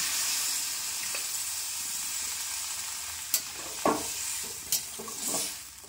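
Mixed vegetables, including sweet pumpkin, cook in a pan with plenty of water, making a constant soft hiss and sizzle broken by several sharp clinks of a utensil against the pan, with no voices.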